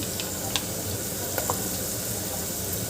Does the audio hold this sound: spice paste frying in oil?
yes